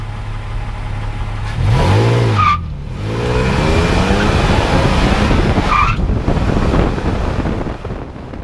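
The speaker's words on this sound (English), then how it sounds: "I'm going to come up to a stop sign here and make a complete stop, and I'm going to go fast" A stock third-generation Toyota Tacoma pulls hard away from a stop, its engine roaring up through the revs with a shift break in between, loud and close, with wind buffeting the microphone.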